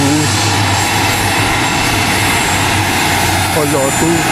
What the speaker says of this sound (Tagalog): So ito yung 72-seater plane na papuntang Zamboanga.